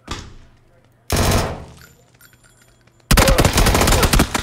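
Gunfire from an M16 and an AK in the video game PUBG, loud bursts of shots in three separate blasts with decaying echo between them, the last burst sustained and heavy.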